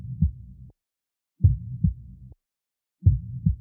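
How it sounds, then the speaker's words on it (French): Heartbeat sound effect added to a music production: three clear, deep double thumps in a steady lub-dub rhythm, each pair separated by a short silence, loud and close with no other sounds. "j'ai rajouté des battements de cœur parce que je trouvais ça cool"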